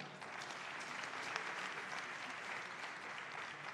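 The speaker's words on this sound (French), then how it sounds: "Je voudrais très sincèrement qu'on applaudisse très, très fort Cynthia." Sustained applause from a gathered audience at a conflict-resolution forum, a dense continuous wash of many hands clapping, fairly distant and steady.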